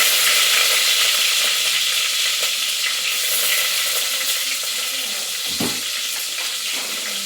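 Onions fry in hot coconut oil for a Mangalore-style fish curry, a constant loud hissing sizzle with an occasional faint knock of a utensil, and no one speaking.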